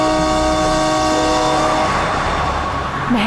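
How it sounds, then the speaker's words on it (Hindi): A vehicle horn blares in one long sustained honk on a city road, loud and close, then cuts off as traffic noise carries on beneath it. "हॉर्न पे हॉर्न मार रहा है।"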